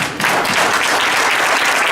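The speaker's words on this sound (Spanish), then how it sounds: "agradeciendo con un aplauso" Loud, dense applause from an audience thanking panelists at an indigenous shelters forum in the Sierra Tarahumara, rising sharply and then holding as a continuous close wash of clapping.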